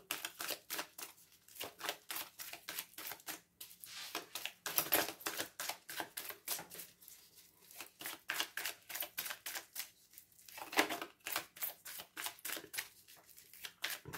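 A deck of tarot cards is shuffled and drawn by hand, giving rapid papery riffles and flicks in dense, rhythmic bursts that break off with short pauses, close and fairly quiet.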